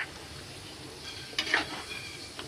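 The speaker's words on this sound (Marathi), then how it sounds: "त्याला पूर्णपणे हलवून मिक्स एकजीव करून घ्यायचं" Mutton coated in masala being stirred in a pan, giving a soft scraping stir with a faint sizzle beneath, and a couple of brighter scrapes near the middle; quiet and close, with no talking.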